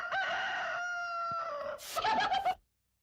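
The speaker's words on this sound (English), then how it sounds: "Oh, I think it's a chicken actually." A chicken calls with a long, strained, crow-like note held for nearly two seconds, then breaks into a quick burst of loud clucks that stops abruptly, close and clear with no talking.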